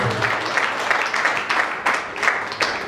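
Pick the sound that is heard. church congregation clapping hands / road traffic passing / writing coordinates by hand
church congregation clapping hands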